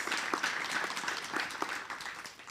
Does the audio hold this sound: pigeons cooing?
no